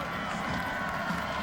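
A stadium crowd murmurs and rumbles at a college football homecoming game, a dense, distant wash of voices with no single clear cheer.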